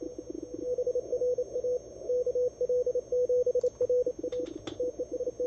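Morse code from an amateur radio station during the CQ World Wide CW DX contest: a steady keyed tone over background hiss and static, rising in strength as it goes, with a few brief chirps near the end.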